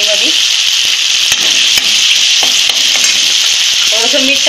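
Chopped tomatoes and coriander fry in spiced oil tempering for Kolhapuri mutton. A loud, close, constant sizzle comes with a few faint clicks of stirring, and brief voices sound in the background.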